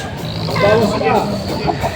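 Native chickens cluck and murmur close by in a noisy poultry market in Padre Garcia, Batangas, with a short burst of louder activity at the very end.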